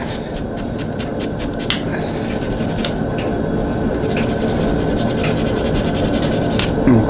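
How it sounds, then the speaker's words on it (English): A small wire brush scrubs a greased motorcycle pin on a Honda CBR, giving a steady, close rasping scrape with faint metallic clicks that continues without a break. "Take our little wire brush"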